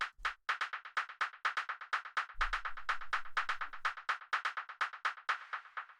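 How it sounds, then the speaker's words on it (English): A second Serum synth percussion pattern plays as rapid, bright, clicky electronic hits in a busy rhythmic loop, with a low thump underneath for about a second and a half midway, no voices. "the next thing that we have here is the second serum percussion, which sounds like this"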